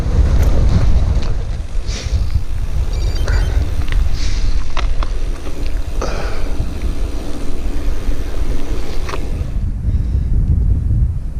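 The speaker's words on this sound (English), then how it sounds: "And yet into the bloody wind." Strong wind buffets a cyclist riding into a headwind on a gravel loop, a loud continuous low roar of microphone wind noise with gusty swells and faint rattles, no voices.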